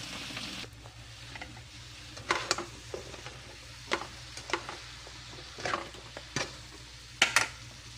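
Pakbet vegetables, including long beans, are stirred in a pan, giving a low simmering hiss broken by scattered scraping and clattering strokes of the spoon at irregular intervals.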